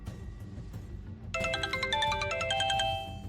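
A mobile phone ringtone starts suddenly after a stretch of low room noise, playing a bright repeating electronic melody from inside a bag.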